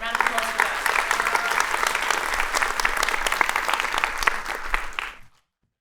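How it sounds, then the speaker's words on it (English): A full round of applause from an audience at a Three Minute Thesis research presentation event, dense and steady for about five seconds before cutting off abruptly. "Round of applause for that"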